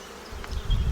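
Honeybees crowding a single hive box give off a soft, close buzzing that swells louder toward the end of a brief moment, with no voices.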